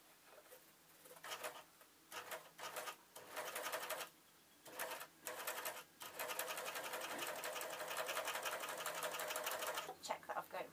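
Overlocker running bursts of rapid stitching while sewing a rolled hem on a skater shirt, starting and stopping, then running steadily for several seconds, loud and close with no talk.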